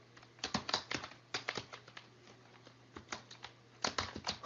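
Computer keyboard typing during a typing lesson, with quick bursts of soft, close key clicks separated by short pauses, heard on their own.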